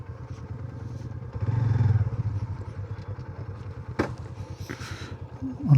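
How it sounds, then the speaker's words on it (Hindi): A motorcycle putters into a parking lot at a hill station in Sindh, its engine chugging nearby and swelling briefly before settling, with a clatter and faint background noise. "पार्किंग लॉट में बाइक खड़ी करो"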